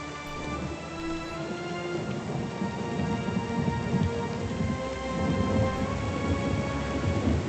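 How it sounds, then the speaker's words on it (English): Heavy rain in the video game Pillars of Eternity: Deadfire pours down steadily in a dense hiss, with low rumbling thunder rolling underneath throughout. "It's raining pretty hard."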